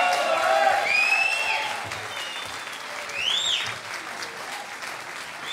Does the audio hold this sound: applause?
yes